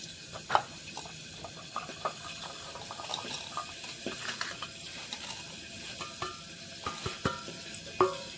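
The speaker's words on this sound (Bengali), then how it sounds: "এখানে মাছগুলো ভাজা হচ্ছে" Fish fries in oil, crackling and sizzling steadily close by, with sharp pops and spatters scattered throughout.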